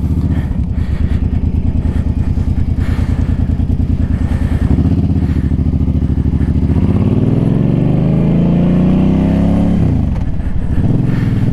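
A Suzuki M50 motorcycle idles with a loud, close, rapid engine thump, then revs and pulls away. Its pitch rises steadily through the gears before dropping briefly and climbing again.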